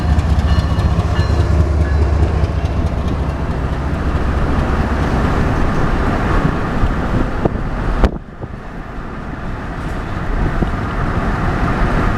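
Union Pacific Big Boy 4014 steam locomotive hauling a freight train past in Kansas City, a loud, steady rumble of rolling wagons and rail clatter with a brief dip near the end before the rushing noise resumes.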